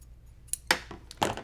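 Scissors trimming fabric for a cross-stitch mug rug: two or three sharp, close snips with slight metallic clicks in a quiet room, no talk.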